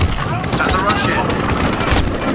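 Gunfire rattles through a Call of Duty: Modern Warfare battle, dense overlapping shots and booms filling the whole stretch with a voice talking over the din.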